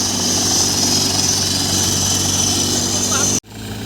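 A loud, steady mechanical drone of a soybean cutter machine running, cutting off abruptly near the end to quieter background noise.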